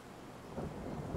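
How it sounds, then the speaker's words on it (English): Thunder and heavy rain, apparently the weather effect in a train game, sound as a faint low rumble that swells midway beneath a constant soft hiss of rain. "It's actually thundering and lightning, my goodness."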